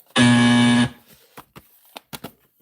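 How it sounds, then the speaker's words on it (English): A loud, steady electronic buzzer sound effect marks a losing scratch-off lottery ticket, one sustained harsh tone lasting under a second, followed by faint scattered clicks and noises. "Buzzer."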